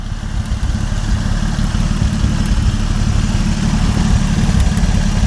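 A 1950 Dodge Meadowbrook engine idles close by with its fan running, giving a loud, steady low rumble and a fast, even chug that carries on with no talk over it.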